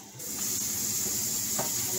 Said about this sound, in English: Because it's frozen, I'm just going to run some water over it